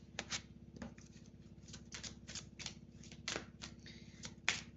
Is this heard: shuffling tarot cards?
yes